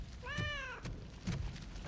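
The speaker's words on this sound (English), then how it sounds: "A cat? Where?" A cat in RoboCop: Unfinished Business gives one clear, drawn-out meow near the start, followed by a few soft thumps and faint background game noise.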